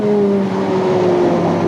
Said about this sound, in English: The Nissan pulls away.